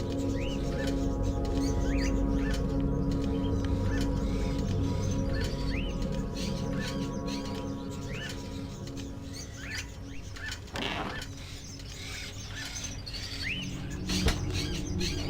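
Songbird chirping and trilling in repeated short phrases within the Indigo Prophecy video game, clear over a steady low background hum, with occasional soft flutters.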